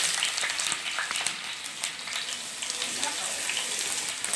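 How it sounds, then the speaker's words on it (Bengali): Two sliced onions frying in hot oil to make beresta for Kolkata-style chicken biryani: a continuous close hiss and crackle of sizzling, steady and fairly loud throughout, with faint spatters on top. "আর এখন আমরা আগে থেকে যে 2টা পেঁয়াজ কেটে রেখেছিলাম সেই পেঁয়াজে বেরেস্তা বানিয়ে নেব।"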